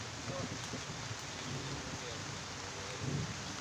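Steady rain hisses in a forest, with low rumbles of thunder rolling in the background and a faint voice now and then beneath it.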